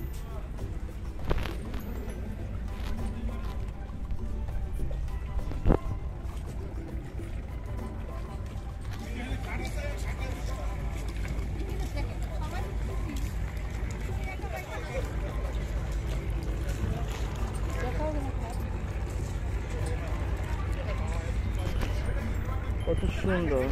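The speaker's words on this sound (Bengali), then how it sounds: "আমরা এখন ট্রলারে" A trawler boat cruises along the Shitalakshya river in Bangladesh, its engine giving a steady low drone with water rushing beneath, while people talk over the noise throughout.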